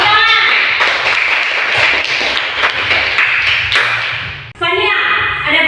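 Classroom of pupils clapping hands together, a dense run of claps filling most of the moment, with children's voices chattering and talking through it before a brief dip.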